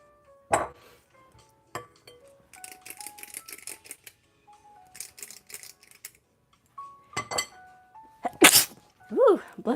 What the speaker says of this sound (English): I feel like my brain rattles when I have like a really big sneeze.